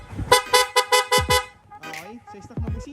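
Horn blasts from a Suzuki Sniper 150 motorcycle fitted with a PIAA horn: a run of five short, loud, bright toots in quick succession, followed by someone talking.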